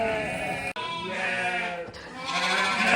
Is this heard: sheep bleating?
yes